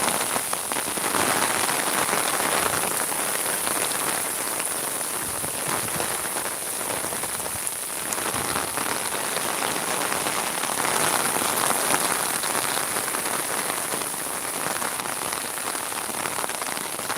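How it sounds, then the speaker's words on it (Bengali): Heavy rain pours down in Sylhet during flooding near the Surma River, a loud unbroken roar of drops striking surfaces, steady and close throughout with no voices. "বৃষ্টি বাড়ি গেছে, প্রচুর পরিমাণ বৃষ্টি এবং বাতাসদের।"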